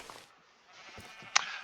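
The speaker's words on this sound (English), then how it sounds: "The sheep is getting sheared." A sheep bleats faintly in Minecraft while being sheared, a brief, quiet call followed by a short, sharp click.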